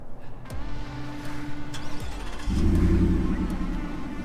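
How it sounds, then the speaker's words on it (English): A lifted Ford F-150 pickup with a Borla exhaust idles, then revs up hard into a louder, deep exhaust roar that holds steady, close by. "You got the Borla exhaust. I tell you what, you want to go ahead and crank it up for us?"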